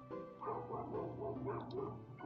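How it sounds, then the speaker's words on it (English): Dogs bark and yip excitedly in the Undertale video game, a fast, continuous run of overlapping yaps over a steady tonal game-music background. "Those dogs are going insane."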